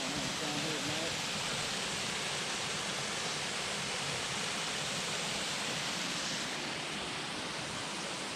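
Waterfall with a roughly 30-foot drop at Mulberry Mountain, Arkansas, a steady hissing roar of falling water, loud and unbroken from start to finish.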